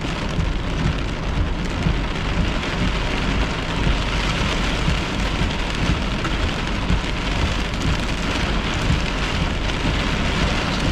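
Heavy rain from a thunderstorm pours steadily on surfaces with a constant hiss, while low rumbles of thunder roll underneath throughout.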